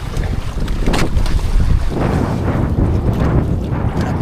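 Large waves slap and surge around a small fishing boat out at sea at night, with heavy wind buffeting the microphone in a continuous loud roar of water and gusts.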